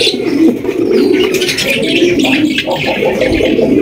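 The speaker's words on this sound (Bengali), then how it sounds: "রয়েছে একজোড়া লাক্ষা হোয়াইট কালারের মধ্যে লাক্ষা কবুতর" A pair of white Lakha pigeons coo steadily and close by, their soft throaty calls running continuously and mixed with a few light chirps, with no voices.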